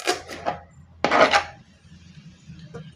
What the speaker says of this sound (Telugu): ఆకులు కూడా ఇలాగ చిన్న చిన్న ముక్కల కింద కట్ చేసుకోవాలి.